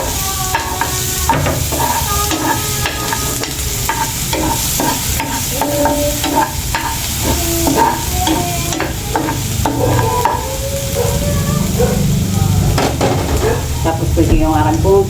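Garlic and onion sautéing in a pan for a fishball sauce, with a steady loud sizzle throughout and frequent short clinks and scrapes of a spatula stirring at close range. No speech.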